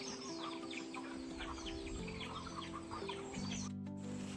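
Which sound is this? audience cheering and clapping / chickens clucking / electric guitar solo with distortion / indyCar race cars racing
chickens clucking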